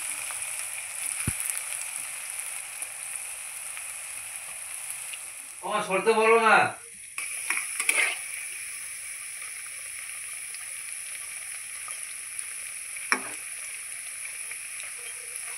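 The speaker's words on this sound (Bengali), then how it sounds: "এখন আমি দ্বিতীয় রাউন্ডে ভেজে নিচ্ছি" Semolina and boiled-potato snacks deep frying in oil give a steady, bright sizzling hiss that runs throughout. A voice speaks briefly partway through, and a few small clicks sound against the sizzle.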